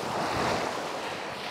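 Mediterranean sea waves wash onto a beach at Mersin, a steady broad rush of surf mixed with wind noise on the microphone, with no voices.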